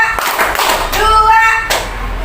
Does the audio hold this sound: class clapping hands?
yes